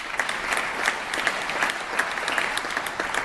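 A legislative floor audience applauds during a speech, with a steady, dense patter of many hands clapping at moderate volume throughout and no talk over it.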